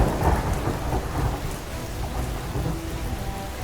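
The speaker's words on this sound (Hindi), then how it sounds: "बारिश में क्यों भीग रही है?" Steady rain pours down with rolling thunder rumbling underneath in a Hindi animated family story, a dense continuous wash of downpour heard close with no voices over it.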